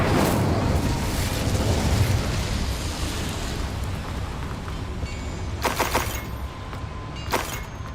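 Incendio fire spell cast in Hogwarts Legacy on PS5, heard as a loud continuous roaring burst of flame inside a mine, rumbling throughout with a couple of brief crackling flares near the end.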